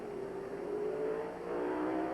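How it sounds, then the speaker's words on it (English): Fire department motor ladder rig, loaded with its crew, racing down a 475-foot drag chute at a 1979 New York State fire drill at a speedway, nearing 80 mph; a loud, steady engine roar with rising pitch, no voices. "They're really almost dragsters as they carry the ladder rig and the men down a chute that is 475 feet long."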